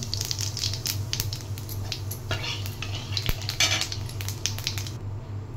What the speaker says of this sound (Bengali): এবার এই মাছ ভাজার তেলেই গোটা জিরে ফোড়ন দেব।